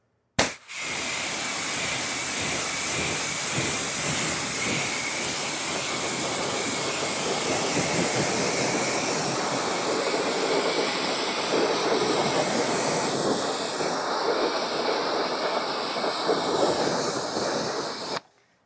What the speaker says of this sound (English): The first rinse, kind of pull your wand back a little bit and more so mist it.